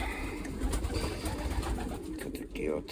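Pigeons coo in a crowded dovecote, soft overlapping throaty calls filling the space close by, with a voice speaking over them.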